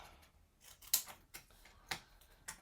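Scissors cutting paper for a large scrapbook folio, a few quiet crisp snips spaced about a second apart, close and alone.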